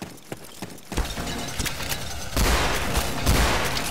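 UMP submachine gun firing in Counter-Strike: Source, rapid bursts of sharp shots that build into a dense, loud stretch of sustained fire near the end, with no voices over it.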